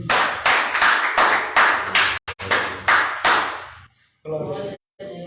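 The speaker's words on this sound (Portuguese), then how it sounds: "Palmas para Ele." A church congregation clapping in steady rhythmic bursts, loud and close, breaking off partway before a few final claps and a brief voice.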